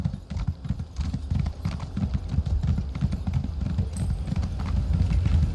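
Horse hooves clip-clop in a steady rapid rhythm as a mount travels in a fantasy role-playing game, close and fairly loud, with faint ambient game sound underneath and no talk.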